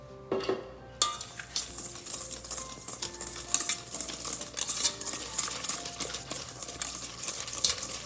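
Sweet potato being stirred in a bowl for a Jamaican sweet potato pudding, a steady run of close scraping and knocking strokes with small clinks, no talking.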